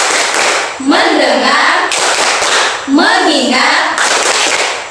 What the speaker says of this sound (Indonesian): Ayo kita tepuk fokus.